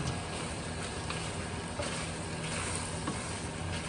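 Bacon and other fried-cabbage ingredients stirred around in a pan, giving a steady close sizzle and frying hiss with faint scraping of the stirring throughout, no talking.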